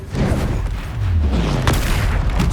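A Bombarda explosion spell in the video game Hogwarts Legacy: a heavy, close booming blast with a low rumbling tail, followed by a sharp crack and sustained loud crackling debris.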